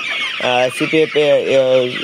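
Chickens in a poultry shed cluck loudly and close up, a quick series of repeated clucks over a steady background of flock noise.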